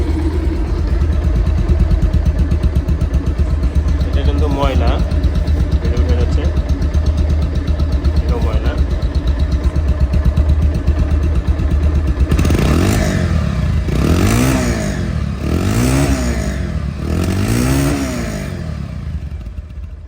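A 2021 Pulsar double-disc motorcycle engine idles with a steady low rumble close by, then is revved several times in rising and falling bursts toward the end.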